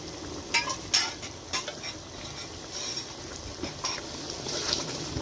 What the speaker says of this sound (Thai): เราก็ใส่หมูลงไปเลยค่ะ ผัดให้หมูสุกเลยนะคะ